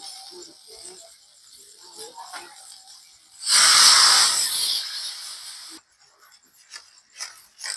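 Coconut milk poured into soybeans frying in a pan gives a loud sudden sizzling hiss that swells for about two seconds and then fades, with quieter clatter and faint talk around it.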